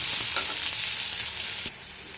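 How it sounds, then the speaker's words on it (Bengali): Freshly grated ginger and garlic fry in hot oil in a pan, an intense bright hiss with a brief stirring scrape near the end, close and loud, no talk. "আদা রসুনের গন্ধটা চলে যাওয়া পর্যন্ত আমি নাড়াচাড়া করে নেব।"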